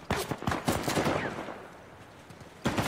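Gunfire from a shootout in Uncharted: The Lost Legacy: a rapid volley of close, loud shots, a short lull, then another burst at the end.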